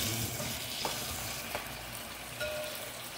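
Potatoes sauté in a pan with a steady, close frying sizzle, broken by a few light stirring clicks and scrapes, with no talking.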